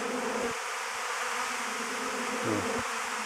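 A honey bee swarm buzzes at a rural apiary, a dense, continuous close drone of many bees with a few louder individual bees passing near, and no voices.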